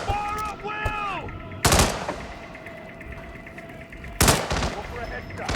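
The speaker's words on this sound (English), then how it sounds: "Fire at will!" Gunfire in the Hitman game Freedom Fighters: two sharp, loud single shots a few seconds apart, each with a short ringing tail, over steady background ambience and brief tonal game sounds at the start.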